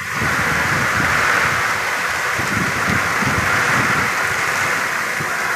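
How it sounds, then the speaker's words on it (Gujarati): Torrential stormy rain pours over a farmstead in a continuous broadband hiss and roar, steady and close for several seconds with no pauses and no talking. "તો આવો વરસાદ તો મેં ક્યારેય જોયો જ નહોતો"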